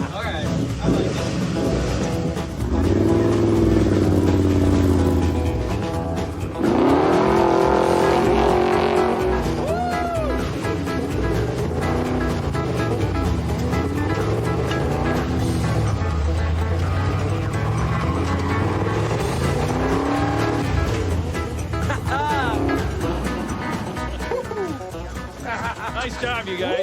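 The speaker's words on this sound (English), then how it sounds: "it's not fun until we do a burnout or two" C10 race truck doing a burnout, its engine revving loud and rising in repeated swells with tire squeal mixed in, people talking over the noise.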